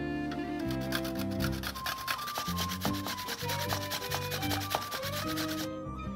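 Frozen ripe bananas are grated into shavings with fast, even rasping strokes, repeated rhythmically against a backdrop of music, with no talk.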